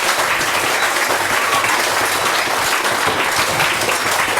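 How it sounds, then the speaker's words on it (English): Dense, steady applause from an audience at a school facility opening in Fiji, a continuous loud patter of many hands with no break. "Can we give another round of applause?"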